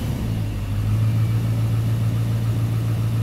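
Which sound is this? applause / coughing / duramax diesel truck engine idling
duramax diesel truck engine idling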